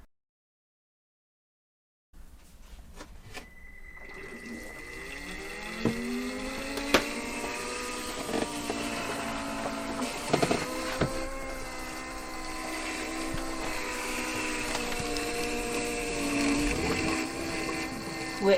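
A hydronic heating system in a full-time campervan starts up after about two seconds of silence. A steady pump hum and drone follows, with a rising whine, scattered clicks and knocks, and a faint bubbling of water in the lines.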